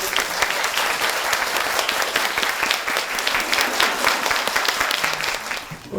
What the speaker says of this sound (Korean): 모두 큰 박수로 선생님을 맞이해 주시면 감사하겠습니다.